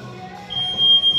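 Electronic workout timer at a gym set up with a log barbell and pull-up bar, giving a sustained high-pitched beep that starts partway through and holds to the end, loud and close.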